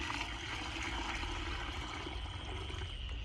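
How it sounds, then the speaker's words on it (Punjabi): Water pours steadily into drinking containers set out for pigeons, a continuous close splashing, filling stream without pause. "ਹੋਰ ਪਾ ਦਈਏ ਪਾਣੀ ਇਹਨਾਂ 'ਚ"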